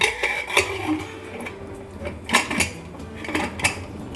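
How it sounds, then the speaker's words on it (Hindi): Metal clatter of a pressure cooker lid being handled and shut on a cooker of aloo matar, several sharp knocks and scrapes spread over a few seconds, close by with no talking. "अब हरी मिर्च डालने के बाद मैं कुकर का ढक्कन जो है बंद कर दूंगी।"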